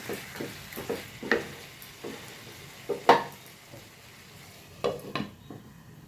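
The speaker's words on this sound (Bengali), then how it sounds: "নুন দিয়ে আবারও নেড়ে চেড়ে আমি ঢাকা দিয়ে দেবো।" Chicken seasoned with salt is stirred in a sizzling pan, with repeated scraping strokes and clatters of the spatula over a steady close frying hiss, no talk.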